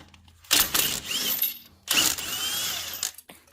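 An impact wrench loosens a front brake caliper bolt on a 2020-or-later Toyota Supra MK5 in two sharp, loud bursts of rattling hammering, separated by a brief pause. It is close and mechanical, with no talking.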